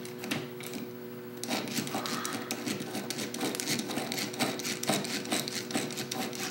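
A screwdriver bit backing screws out of a Sega OutRun arcade cabinet, a steady rapid whirring chatter close by with fast repeated ticks, continuous and moderately loud, no talk.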